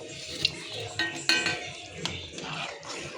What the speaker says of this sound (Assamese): এতিয়া ইয়াতে মই ভাজি থোৱা মাছখিনি দি দিম